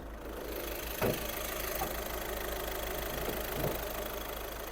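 A Skoda Octavia TDI diesel engine idles steadily with a low, even rumble and light rattling, a couple of faint knocks standing out, no voices.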